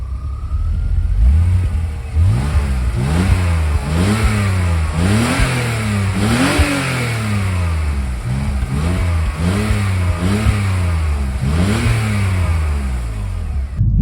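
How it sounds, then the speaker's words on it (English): A 2005 BMW 325xi with a naturally aspirated straight-six engine revs repeatedly, its pitch climbing and falling in a rhythmic series of about ten loud, close blips with no talking. "there's nothing better than the sound of an atmospheric straight six"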